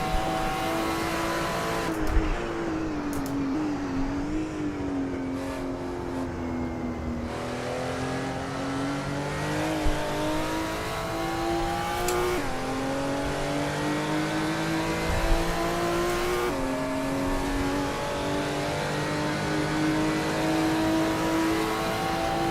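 A race car in Assetto Corsa Evo hot lapping, its engine droning steadily with rising and falling revs through gear changes over a long continuous run, loud and close with no talk.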